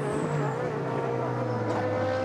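Race cars, among them a Nissan, lap Fuji Speedway in a GT Asia round on a wet track, a loud, continuous engine drone holding steady and close with no voices.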